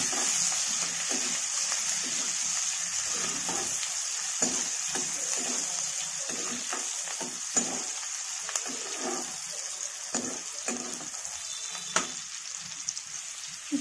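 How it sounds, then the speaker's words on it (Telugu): Onion pieces fry in a pan for ridge gourd curry, giving a continuous close hiss and crackle of sizzling oil with occasional sharper pops and stirring scrapes, no speech. "ఉల్లిపాయ ముక్కలు కొద్దిగా వేగం అయ్యాలి."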